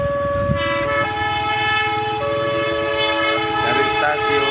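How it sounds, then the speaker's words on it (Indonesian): A train rumbles past a level crossing at close range, its horn sounding in long steady blasts with metallic rolling noise underneath. "dari arah barat kereta"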